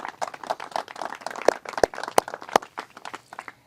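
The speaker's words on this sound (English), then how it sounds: "Run another round of applause for the Raines family and all of our other selfless servants that got here today" Applause at a military recognition ceremony, an irregular scattering of claps from a small group, fairly close, with a few louder distinct hand strikes standing out midway before thinning toward the end.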